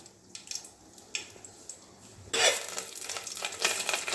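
Peppercorns, bay leaves and dried red chillies fry in hot oil for a mutton curry. A few quiet clicks come first, then a sudden loud sizzle flares up and keeps hissing close by as the spices are stirred.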